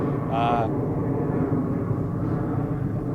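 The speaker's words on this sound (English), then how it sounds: "after the plane goes overhead" An airplane passes overhead, a steady broad roar that fills the whole stretch at even loudness, with a brief tonal whine near the start and faint voices in the background.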